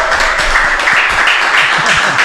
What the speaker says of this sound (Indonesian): Kita beri tepuk tangan dong.